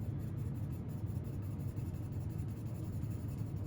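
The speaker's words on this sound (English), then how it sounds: "So I'm going to lay that right on top. And I'm using a 6B General's charcoal pencil." A 6B General's charcoal pencil shades on paper in a continuous close, soft scratching with short rhythmic strokes, alone without talk.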